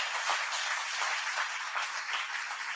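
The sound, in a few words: applause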